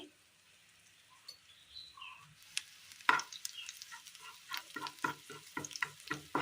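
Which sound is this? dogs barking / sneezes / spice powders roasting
spice powders roasting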